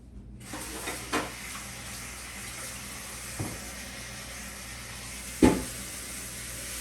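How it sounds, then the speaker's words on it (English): Water runs steadily from a tap into a pot, with a few clanks of metal against the sink along the way. "I'm gonna put the bigger pot with water"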